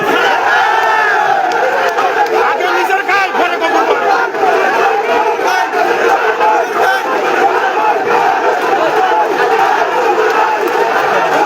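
A large crowd chants the slogan "Gafur bhai nijer khai" in unison, a loud, continuous roar of massed voices repeating the rhythmic call throughout.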